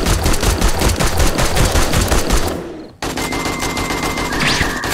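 Rapid automatic gunfire from the survival video game 7 Days to Die, loud and continuous bursts that cut off abruptly, then resume with a steady rattling and a faint high tone behind.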